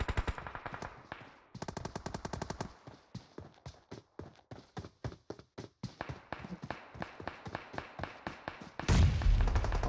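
Automatic gunfire in the mobile battle game BGMI, a long stream of rapid, evenly spaced shots with a short gap early on, ending in a louder, denser blast.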